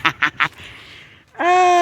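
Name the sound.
goose honking at a park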